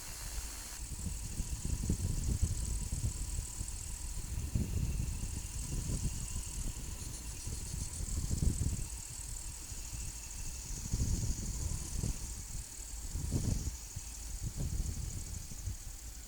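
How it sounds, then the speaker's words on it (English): A light aircraft touches down and rolls out, its engine droning steadily throughout with rumbling bumps and vibration, close and continuous for the whole stretch. "And that was a nice landing."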